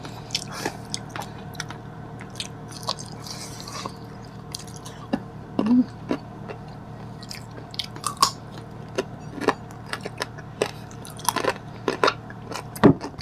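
Close, crisp bites and chewing of crunchy, freshly picked chili during a Filipino mukbang meal, irregular wet crunches and squishy munching sounds over quiet background hum.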